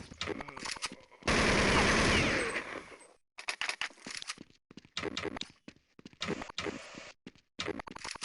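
Gunfire in Counter-Strike 1.6: a long sustained automatic burst early on, then a string of shorter rapid bursts and single shots separated by brief silences, loud and close.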